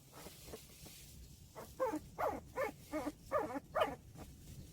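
Newborn puppies whimper in a run of about seven thin, rising cries that start faint and grow louder and closer, evenly spaced, with no talking.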